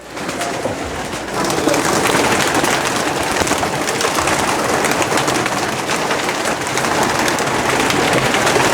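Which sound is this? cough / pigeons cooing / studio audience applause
pigeons cooing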